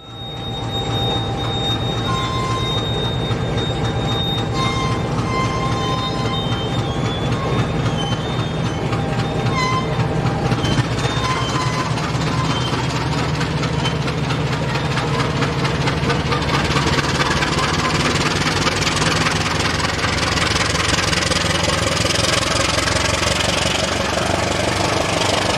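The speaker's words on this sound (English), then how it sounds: "Nowadays, the Class 35 diesel is the designated traction." A South African Class 35 diesel locomotive on a branch line drones with a loud, steady engine rumble and rattling wagons, sustained throughout without speech.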